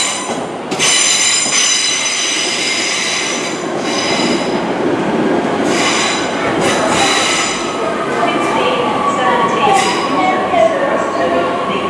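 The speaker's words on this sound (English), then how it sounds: "Train arriving to platform 1A, Lincoln Central service from Leicester, Class 153 East Midlands train service." An East Midlands Class 153 diesel unit on a Lincoln Central service from Leicester pulls into a station platform, with steady rolling rumble, squealing wheels and brake hiss close by throughout, plus faint voices in the background.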